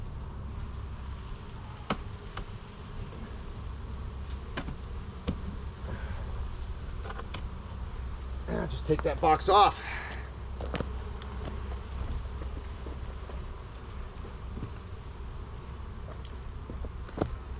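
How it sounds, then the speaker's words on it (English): A dense swarm of honey bees drones steadily around an opened hive, a continuous low buzz with sharper individual wingbeats passing close by, and a brief burst of nearby activity midway; someone speaks a few words. "There's a lot of bees that want to get in and out of here"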